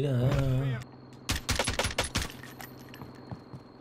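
Someone speaks briefly, then rapid bursts of automatic gunfire from Warzone crack out in a quick, uneven volley before trailing into quieter, scattered shots.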